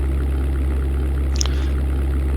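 Twin aircraft engines droning steadily in the flight game European Air War, running hot, a loud constant low hum with no talk over it.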